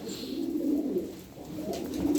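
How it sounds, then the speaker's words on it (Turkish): Pigeons coo softly nearby, low throaty murmurs repeating over a light background hum. "Bakın çok hoş kuşlar var içinde"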